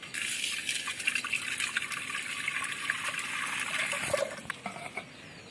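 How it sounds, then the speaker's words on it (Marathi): Water poured over salt in a bowl before kneading wheat flour dough, a steady close trickle and gush of liquid lasting several seconds, easing off near the end, with no talking. "आणि त्यामध्ये आता पाणी टाकायचं आहे"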